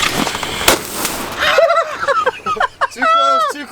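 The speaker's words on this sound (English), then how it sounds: "He's over here with the poppers." Fireworks and poppers set off by a lakeside campsite near a parked van, a loud blast followed by scattered pops and crackles, with people shouting and talking excitedly over them.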